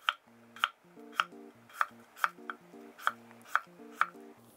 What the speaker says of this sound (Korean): 이렇게 해갖고 한 2mm 간격으로 썰어줍니다.